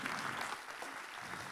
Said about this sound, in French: On peut vous applaudir tous les quatre pour votre intervention.